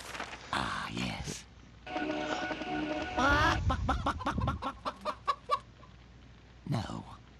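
Chicken clucking in the Medievil video game after a transformation spell: a loud run of rapid, choppy clucks and squawks with a fast rhythm, followed by a short final burst.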